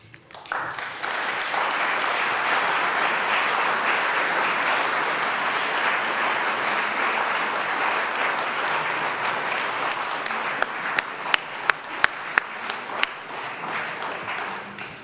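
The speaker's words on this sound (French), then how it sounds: "Vos applaudissements chaleureux" Warm applause from a lecture audience after a talk on the Reformation, a dense, sustained ovation that runs evenly, then thins into a few separate, louder claps near the end.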